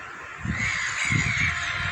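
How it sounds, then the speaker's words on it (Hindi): Crows cawing in overlapping harsh calls, several birds circling overhead, steady and fairly close. "कौवे बच्ची के ऊपर घेरा बनाकर घूम रहे थे।"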